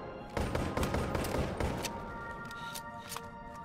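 Rapid bursts of virtual gunfire ring out while shooting at targets in the VR game Boneworks, a cluster of sharp cracks in the first two seconds followed by a few scattered, spaced-out shots.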